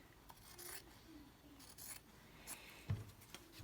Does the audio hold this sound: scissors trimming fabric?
yes